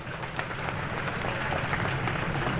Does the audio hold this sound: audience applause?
yes